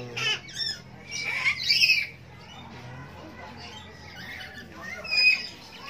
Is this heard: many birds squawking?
yes